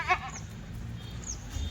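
A single dairy goat bleat rings out at the start, brief and fairly close, followed by low farmyard rumble and faint background noise.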